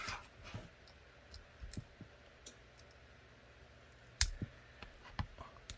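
Holster material being cut by hand for a Glock 30S with a Nightstick 550XL light, heard as sparse close clicks and snips separated by quiet gaps, with no talking.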